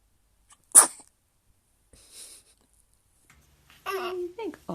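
A baby sneezes once, a sharp, close little burst, followed by soft breathy sounds and a short stretch of infant babbling and cooing.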